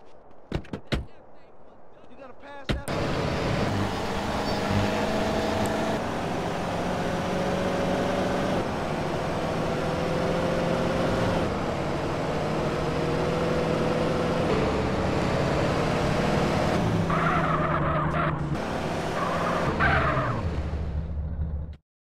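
A car drives in GTA San Andreas, a steady engine drone with whooshing road noise holding for about twenty seconds after a few sharp clicks, with game effects toward the end.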